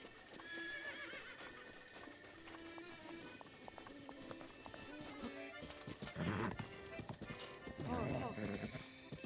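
A horse in Zelda: Breath of the Wild neighs and its hooves clip-clop in quick bursts, the whinnies and hoofbeats rising louder toward the end over a quiet game backdrop.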